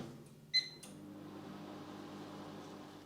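A microwave oven heating a bowl of porridge oats, a short high electronic beep followed by the steady low hum of the running oven.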